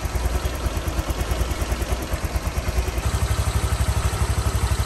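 A Honda Click V3 scooter engine idles steadily while warming up after a coolant refill, a close, even mechanical putter with a rapid regular pulse and a faint high whine.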